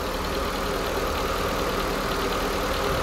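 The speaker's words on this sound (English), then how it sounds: "Yeah, it really purrs." A 2017 Nissan Versa Note engine idling under the open hood, a steady, smooth mechanical hum with even low rumble, recorded close and without talk.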